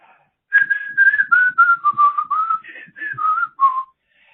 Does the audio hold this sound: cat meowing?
no